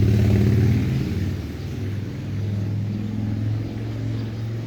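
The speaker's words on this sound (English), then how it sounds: "these people with these loud motorcycles or loud trucks just annoy me" Loud motor vehicle, a motorcycle or truck, rumbling past nearby, with strong low engine drone that peaks at the start and then holds steady as it passes.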